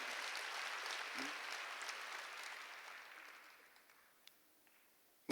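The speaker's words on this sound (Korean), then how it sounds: "메시아 박수로 하세요." A church congregation applauds in a sustained round of clapping that gradually fades to silence after about three seconds, with a sharp sound at the very end.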